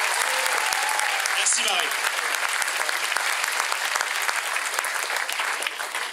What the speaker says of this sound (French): Vous pouvez vraiment l'acclamer encore une fois.